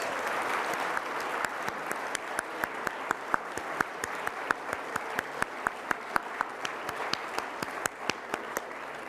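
An audience applauds the honorees at a city building awards ceremony, a full, even roar of clapping with a few sharper individual claps standing out, steady throughout and heard alone without talk.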